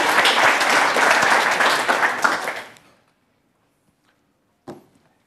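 A conference audience claps loudly to welcome a speaker to the stage, a dense, even roar of applause that fades out after about three seconds, followed by silence and one brief thump.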